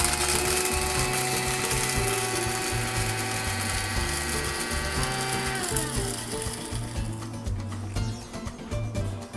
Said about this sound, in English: Over here I've got some peppercorns and some cumin that I'm going to freshly grind.